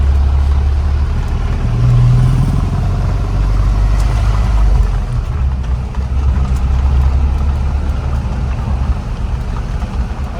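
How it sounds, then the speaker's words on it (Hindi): A 2019 Mahindra Thar diesel engine runs steadily, a loud, low rumbling drone with a constant gritty texture throughout. "डीजल इंजन में जितनी आपको नॉइज़ आती है लगभग उतनी आपको इसमें आएगी"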